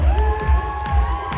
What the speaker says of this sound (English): I want you to clap with me, come on!